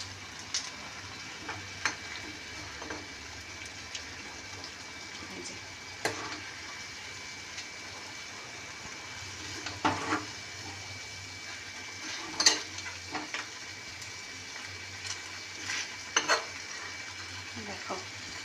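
Chicken pieces frying in butter in a kadai for a dhaba-style Kasuri masala chicken curry, a steady soft sizzle with occasional stirring scrapes and clicks, close and fairly quiet throughout.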